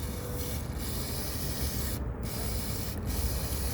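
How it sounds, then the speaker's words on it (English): Mass airflow cleaner sprayed onto a fuel injector from a 2019 Toyota Corolla with a 2ZR-FE engine gives a steady, close hiss that runs unbroken for a few seconds, alone. "I'm using a mass airflow cleaner because this is a very sensitive cleaner, just to make sure that we're being careful with the injector as well."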